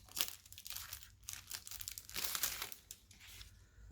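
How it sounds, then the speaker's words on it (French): Crinkling and tearing of a plastic package holding foil letter balloons, a steady run of close, loud rustling bursts with no talking. "Donc, on va ouvrir le paquet."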